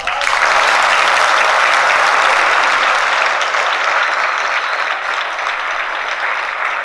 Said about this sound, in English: I'd like to give a nice round of applause for Ray Beck.